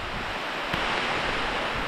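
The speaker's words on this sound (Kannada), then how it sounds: "ಈಗ ಒಳ್ಳೆ ಮಳೆ ಹೊಡಿತಾ ಇದೆ ನೋಡಿ" Heavy rain pouring down on a coffee plantation, a dense, loud, unbroken hiss of falling water close by with no voices, lasting under two seconds.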